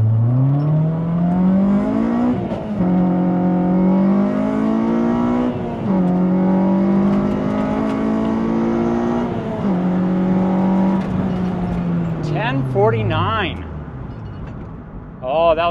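Honda CR-Z with a swapped K24 engine accelerating hard, loud intake and exhaust climbing through several gears with brief dips at each shift, then easing off near the end into a sharp chirp.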